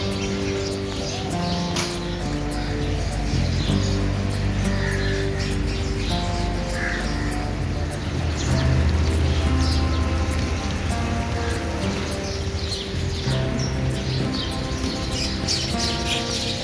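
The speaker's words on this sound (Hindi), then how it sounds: "रिम झिम हो रही है" Light drizzle patters steadily at the Rawalpindi Press Club while birds squawk and chirp now and then over a continuous dense wash of rain and a low background hum.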